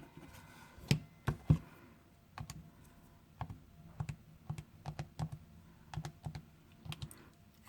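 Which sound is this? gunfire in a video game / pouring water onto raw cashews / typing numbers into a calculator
typing numbers into a calculator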